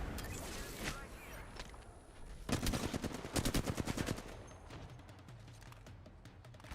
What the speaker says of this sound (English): Perfect shots here with the flat line.